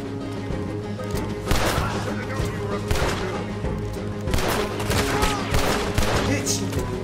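Gunfire in Red Dead Redemption 2 during a jailbreak, repeated sharp shots in bursts over a rumbling backdrop of game sound, loud and close, with several clustered volleys.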